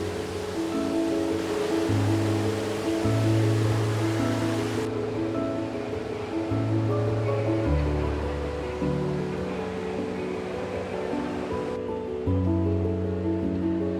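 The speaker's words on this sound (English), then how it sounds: "the sound of water and the refreshing breeze coming from it" Steady rushing water fills the scene in Tokyo on a hot, overcast summer day, a broad continuous wash, with a low tonal hum shifting pitch underneath and no talking.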